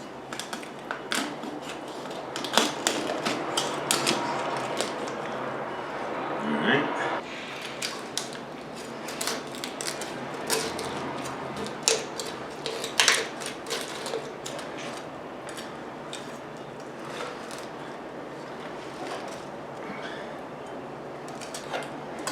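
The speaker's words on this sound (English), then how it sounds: "It's going to break through some bones." Kitchen scissors crunch and snap through raw turkey bones and cartilage while spatchcocking a Thanksgiving turkey, giving repeated sharp cracks and clicks over steady handling noise, close and fairly loud.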